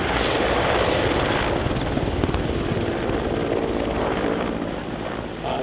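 Steady, loud rotor roar and engine drone of Mi-17 and Mi-24 military helicopters close by at an air show, continuous throughout with no voices.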